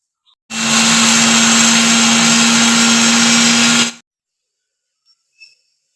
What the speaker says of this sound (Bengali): মশলাটা গুঁড়ো করে নিলাম।